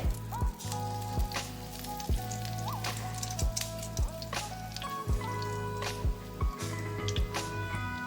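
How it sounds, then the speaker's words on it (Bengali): Whole cumin seeds spluttering in hot oil for tempering while cooking vegetarian aloo dum, a steady crackling sizzle with scattered pops and a low background hum. "একই তেলে আমি দিয়ে দেব ফোড়নে গোটা জিরে"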